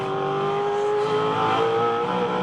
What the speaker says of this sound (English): Listen to the throttle and watch for the run out of turn 2